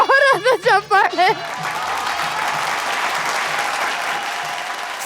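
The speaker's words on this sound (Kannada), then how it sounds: "ನಾನು ಬರ್ಲಿ ಒಂದ್ಸಲ ಜೋರಾದ ಚಪ್ಪಾಳೆ." An audience on a television reality show breaks into loud, sustained applause that swells right after a sung phrase and carries on as an even, dense wall of clapping.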